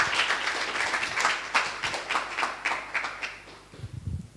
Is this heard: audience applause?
yes